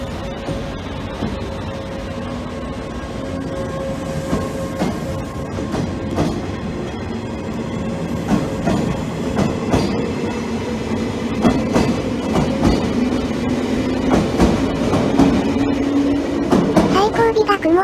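A JNR 381 series tilting limited express train bound for Izumoshi rumbles and clatters as it pulls away, the rolling noise building gradually with wheel clicks and a faint squeal near the end.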